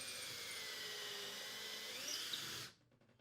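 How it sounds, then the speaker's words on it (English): A power drill whines steadily at high pitch, boring pilot holes into wood continuously for a few seconds before abruptly stopping, leaving near silence. "drill the 2 pilot holes when drilling into wood"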